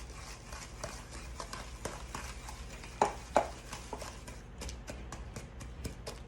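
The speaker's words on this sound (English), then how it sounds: "Mix that all up." Brown sugar being mixed into banana bread batter, a steady run of soft, close clacks and scrapes of a utensil against the bowl, with two sharper knocks partway through.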